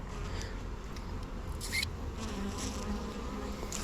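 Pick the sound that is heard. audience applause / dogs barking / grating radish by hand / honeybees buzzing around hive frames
honeybees buzzing around hive frames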